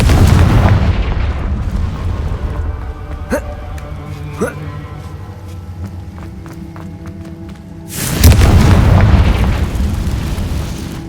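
A Confringo blasting spell in Hogwarts Legacy lands with a heavy booming explosion at the start, followed by scattered crackling pops and ringing tones, then a second loud rumbling blast that trails off.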